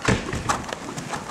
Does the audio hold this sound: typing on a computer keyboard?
no